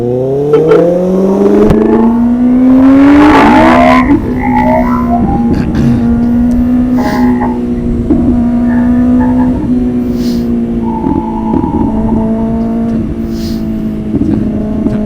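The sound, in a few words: motorcycle engine while riding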